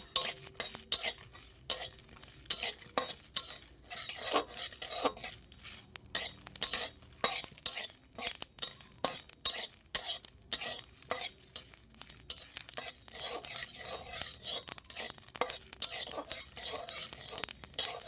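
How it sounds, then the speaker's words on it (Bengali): Cumin seeds fry in a pan while a utensil stirs them steadily, with a close, continuous sizzle and repeated scraping and clinking strokes and no talking. "এবারে জিরোগুলো দিয়ে দেবো, দিয়ে ভালো করে ভেজে নেব।"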